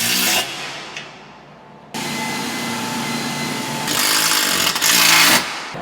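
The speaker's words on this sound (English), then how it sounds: "we're gonna pin our first piece of UNISTRUT on the top here first" A loud power tool whirs in bursts up close while Unistrut strut channel is pinned in place overhead in a wash bay, with a brief pause before the steady roaring drive resumes and swells again near the end.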